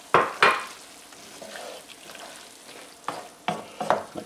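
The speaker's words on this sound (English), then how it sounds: "You stir this around." Marinara sauce stirred in a pan for jumbo stuffed shells, giving a few scraping, sizzling strokes at the start and again near the end, with a quieter simmering stretch between and no talk.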